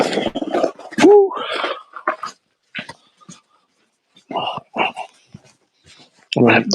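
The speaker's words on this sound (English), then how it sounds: "I'm gonna have dogs all around me." Several dogs bark, yip and whimper at close range in scattered bursts, someone talking among them.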